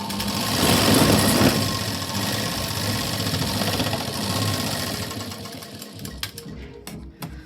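A sewing machine stitches along a marked line on a garment fitting, running in one steady, loud mechanical whir that slows and breaks into a few separate clicks near the end.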